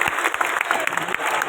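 Big crowd at Pandit Deendayal Upadhyay stadium applauds a chief minister's arrival, a steady, dense wash of clapping with a few louder individual claps standing out nearby.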